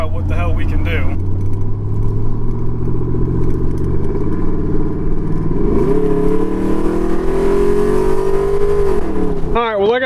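Cammed, lifted 450 HP Chevrolet Tahoe engine idling with a loud, lopey rumble, then revving up and holding a higher steady drone before dropping back, close and continuous.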